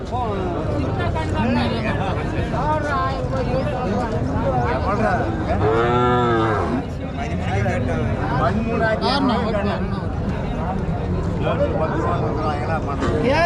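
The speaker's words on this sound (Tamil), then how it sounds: "பசுமாடும் இருக்குது, கிடாரி இருக்குது." Cattle low and moo loudly at a busy livestock market in Tirupattur district, with drawn-out calls rising over a constant din of people talking nearby.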